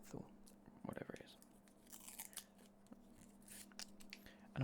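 Close, soft chewing of mint menthol gum, with moist smacks and occasional crunchy bites in irregular bursts over a low hum.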